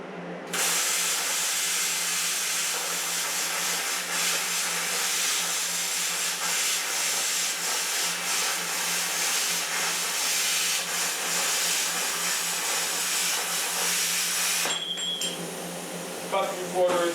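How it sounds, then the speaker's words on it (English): An Everlast plasma cutter slicing through 1/4 inch steel, a loud, steady, close hiss that runs unbroken for about fourteen seconds before cutting off. "Cut through 1/4 inch steel, no problem whatsoever"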